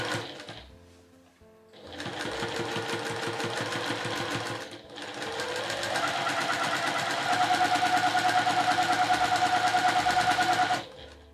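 A sewing machine stitches a 1 cm seam along a fabric edge for a drawstring bag, running briefly, pausing, then running in one long, even burst before stopping.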